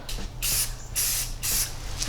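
Three steady hissing bursts from a spray can as a light coat of paint goes onto a piece of furniture in a garage, each pass lasting about half a second, loud and close, with no talk.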